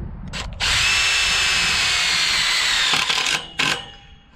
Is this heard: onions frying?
no